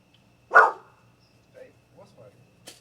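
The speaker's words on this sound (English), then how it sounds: "Yeah, so you just heard Jack bark, I'm sure" A Labrador Basset Hound mix dog gives one sharp, fairly close bark, followed by a few faint softer sounds in an otherwise quiet room.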